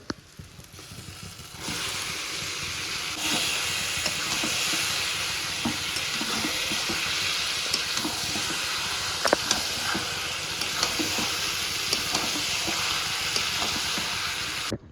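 Marinated mutton tipped into hot, oil-releasing fried spice paste, sizzling as a steady loud crackle across the clip, with scattered stirring clatter and pops after a quieter start.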